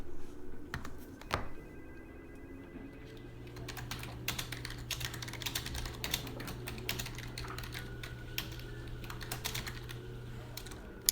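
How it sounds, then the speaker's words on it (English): Keyboard typing in the FMV horror game Morph Girl: quick, irregular key clicks tapping on and off close by, with a faint steady hum under them and no talking. "I wonder what she's typing."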